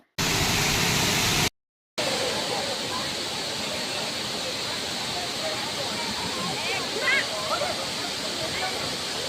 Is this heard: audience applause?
no